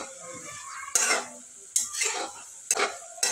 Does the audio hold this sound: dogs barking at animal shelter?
no